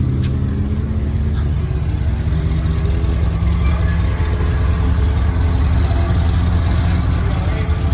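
A large dune boat vehicle built on a Ford chassis idles steadily with a deep, continuous rumble, close and loud throughout.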